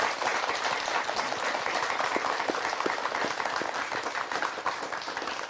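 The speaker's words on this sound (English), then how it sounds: "Please give him a round of applause." Audience applause at the close of a talk show segment, a continuous even patter of many hands clapping, steady throughout with no talk.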